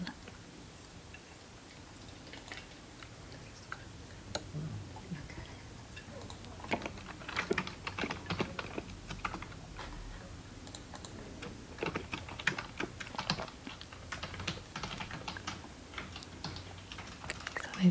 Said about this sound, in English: Just doing some typing